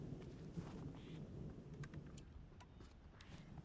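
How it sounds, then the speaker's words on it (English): Heavy rain falls outside, a soft, steady hiss and patter heard from indoors at low level, with a few sharper drops or clicks near the end. "it started raining outside, like heavily raining"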